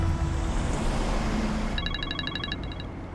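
A telephone rings in a home during a drama scene, a short trilling electronic ring that starts partway through over a loud, steady background hum, with no talk.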